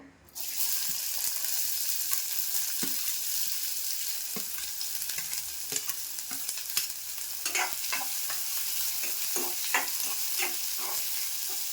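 Chopped onion dropped into hot oil for a sprouted moth bean curry, a sudden hiss that settles into a steady bright sizzle with occasional stirring clicks.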